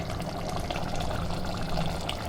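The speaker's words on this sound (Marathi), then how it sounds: "आता आपण पाणी गरम झालेलं आहे, तर आपण हे पाणी याच्यात मिसळून देऊया." Hot water being poured into a pot of mutton curry in a home kitchen, a steady close liquid pour and splash running continuously for a couple of seconds with no talk.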